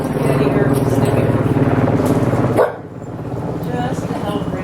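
A shelter dog barks and yips in close, repeated bursts while someone talks over it. The barking fades into quieter whimpering toward the end.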